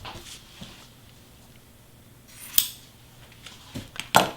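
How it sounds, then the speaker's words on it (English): Scissors trimming satin ribbon on a mini banner gift package topper, a few quick close snips spread apart, the loudest near the end, with quiet room noise between. "the only thing is I like to trim my ribbon"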